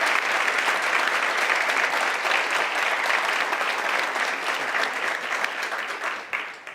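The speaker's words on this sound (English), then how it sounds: "Let's give them a round of applause." An audience at the 2023 City of York Human Relations Commission Diversity Dinner breaks into sustained, dense applause that holds steady for several seconds, then thins and tapers off at the end.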